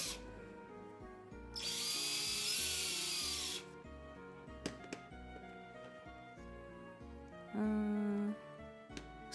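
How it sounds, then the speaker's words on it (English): A power drill whines in two separate bursts, first a long high-pitched run and later a shorter lower one, with light taps and handling noises between them, close and fairly quiet, no talking. "I'll drill it how I drill it."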